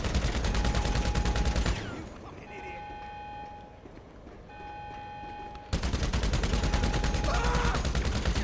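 Gunfire during a GTA Online mission, dense rapid shots at the start and end with a quieter stretch between where steady tones hum, loud and busy throughout.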